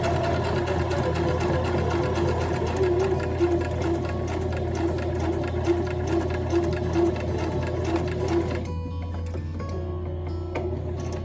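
A sewing machine stitches a logo banner for a 10 ft pop-up tent in a steady, rapid mechanical patter, close and continuous, then slows and softens near the end.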